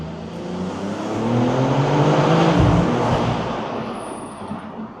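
BMW M3 Touring G81 fitted with OPF filters, engine and exhaust echoing inside a tunnel as it accelerates. The roar swells to a peak midway, then eases, with a faint high whine near the end.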